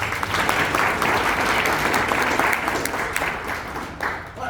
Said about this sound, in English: Let's give a big, huge round of applause.